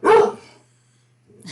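One loud, close dog bark, then a short pause and a softer second yip or bark at the end, indoors.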